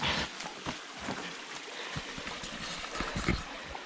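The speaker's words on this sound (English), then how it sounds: "Right, got the creek here. It's running nice and quickly, which is good." A quickly running creek in a bushcraft woodland setting gurgles and trickles close by, with uneven splashy bursts over a steady watery hiss.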